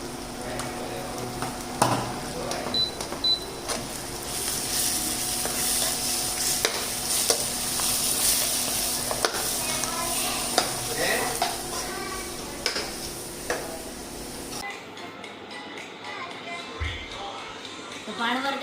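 Garlic and dry chutney fry in oil in a Gujarati village kitchen, a steady sizzle with clattering stirring against the pan. People talk over it, and the frying stops shortly before the end.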